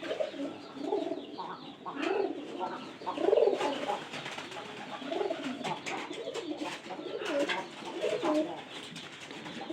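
Pigeons cooing steadily nearby in soft repeated rolling calls, with faint chirps and background clatter; no clear speech.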